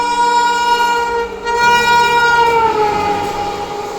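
Indian Railways train passing near Prayagraj, a sustained loud horn-like tone with rich steady harmonics that slowly bends downward, over a rumbling wheel-and-track background, close and dominant with no talking.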